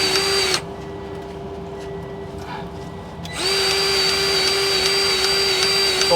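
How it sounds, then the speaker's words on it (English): A grease pump works on the head drum bearing of a conveyor, giving a loud, steady motor whine that cuts out for a few seconds of quieter background and then starts again, continuing to the end. "Greasing the head drum bearing at the other side."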